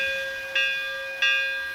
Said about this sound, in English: Here's the bell sound.